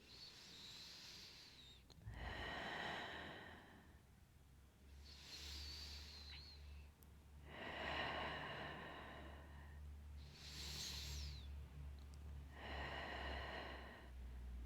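Slow, controlled breathing during a pilates exercise, with alternating audible inhales and long exhales through the nose and mouth, close and moderately loud, repeating about six times in a steady rhythm with no talking.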